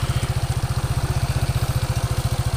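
A motorcycle engine idles smoothly at a steady low speed, its even rapid putter loud and close with a regular rhythm and no voices.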